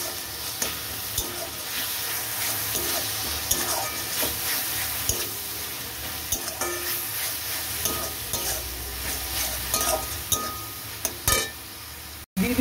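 Grated onion sizzles in a hot pan while a spoon scrapes and stirs it. The frying runs continuously, broken by frequent clinks and scrapes, and a sharp knock comes near the end.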